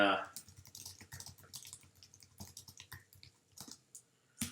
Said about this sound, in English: Typing it up for you guys